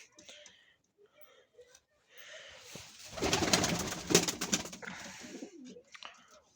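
Pigeons coo softly in a loose, low series, with a louder burst of rustling or flapping in the middle and faint murmuring voices nearby.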